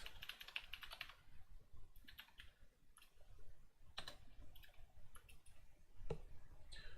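Bursts of clicking keystrokes on a computer keyboard at a programmer's desk, quick clusters of taps with pauses between, close and fairly quiet against low room hiss.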